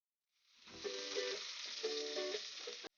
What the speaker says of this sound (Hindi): अब मैं चिकन के पीसेस इसमें फ्राई करना स्टार्ट करती हूँ